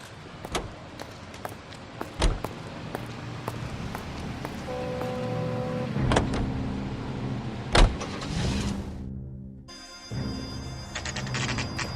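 Car driving in the video game L.A. Noire: a steady engine and road rumble runs throughout, with sharp door-like thumps and clicks breaking in, no voices.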